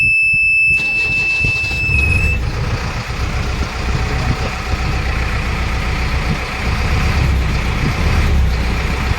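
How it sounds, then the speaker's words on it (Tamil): A JCB backhoe's engine cranks and catches right after a brief beep, then settles into a loud, steady diesel idle close by with no talk. "இப்போ அன்லாக் கொடுத்துட்டேன், வண்டி ஸ்டார்ட் ஆகும் பாருங்கள்."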